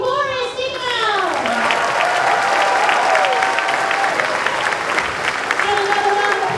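An elementary school spring concert audience claps loudly and steadily for the chorus, dense applause throughout with children's voices and excited calls mixed in.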